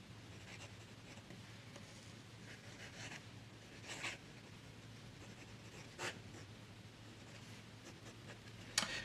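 Fountain pen with an extra fine Jowo steel nib and Califoglio ink writing on paper, giving a soft continuous close-up scratch with a few sharper strokes and taps, heard alone without talk.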